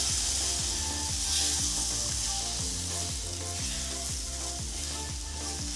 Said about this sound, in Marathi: आता मी थोडं थोडं दूध घालणार आहे